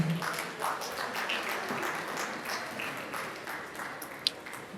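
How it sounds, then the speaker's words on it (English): Conference audience applauding a police commissioner on his way to the high table, a steady even patter of clapping at moderate level with one sharp clap standing out near the end. "A round of applause for him."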